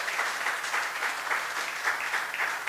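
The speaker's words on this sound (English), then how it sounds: "Big round of applause." A continuous round of crowd applause fills a Hindu temple and community centre grand opening, many hands clapping evenly and steadily without any talk.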